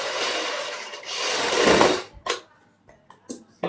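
A sewing machine stitches buckram onto a green kurti neckline: about two seconds of steady whirring, then a few short, sparse bursts of stitching and handling with quiet gaps between, close by and without talk.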